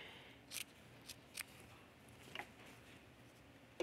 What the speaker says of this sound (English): All right, just trim off a little of the excess here.